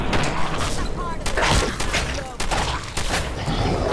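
Shotgun blasts in Fallout 4 boom several times in close succession amid layered combat noise, with a person talking over the gunfire.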